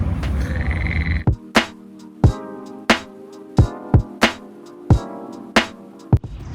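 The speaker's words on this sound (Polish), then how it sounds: "żaba jakaś jest, a nie kaczka" A frog croaks loudly and nearby in sharp, evenly spaced pulses, about ten calls in steady rhythm with no talking.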